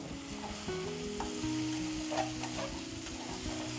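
Thick masala for a paneer dish frying and being stirred in a pan, a dense close sizzle with soft scraping under a faint low tonal background, no voices.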